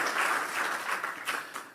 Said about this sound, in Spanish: denle un fuerte aplauso a este Cristo maravilloso